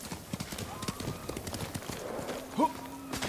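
Horse hooves clip-clop at a steady walking rhythm in Ghost of Tsushima, under a game soundscape with a brief whinny-like cry and speech over it.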